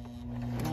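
A Singer 5825C sewing machine runs briefly in reverse to backstitch two stitches. It gives a short, close, humming motor whir under a faint background.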